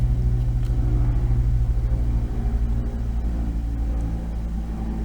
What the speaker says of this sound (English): On the track the car runs substantially quieter.